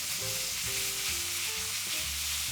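Steaks sizzle steadily in a Le Creuset pan just after being flipped, a continuous loud frying hiss with faint clinks and scrapes underneath.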